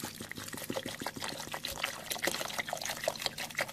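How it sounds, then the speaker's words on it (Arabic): About a liter of water pours steadily into a container for a homemade drink, a continuous close splashing trickle with no talk over it. "دابا غادي نضيف لتر من الماء تقريبا"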